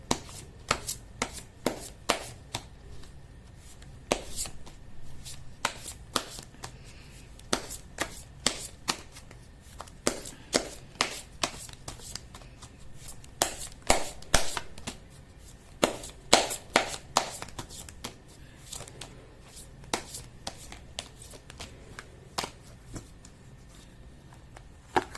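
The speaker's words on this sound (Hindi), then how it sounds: "मैं कर लेती हूँ कार्ड की शफलिंग।" Tarot cards are shuffled by hand in short, crisp riffles and slaps that repeat irregularly throughout, close and fairly quiet, with no voices.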